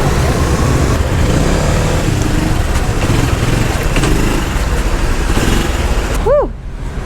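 A motorcycle engine drones steadily amid dense Hanoi street traffic noise, loud and close, with a brief horn-like tone near the end.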